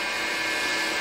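A skew chisel cuts into a spinning wood-lathe workpiece while an acorn is turned, giving a steady, close, high-pitched whining rasp that holds evenly for about a second with no talk.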